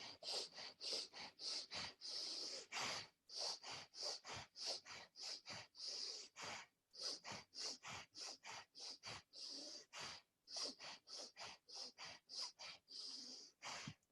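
Rapid, forceful breathwork breathing during a guided session, a long unbroken run of quick, loud inhales and exhales close to the mic with only brief pauses.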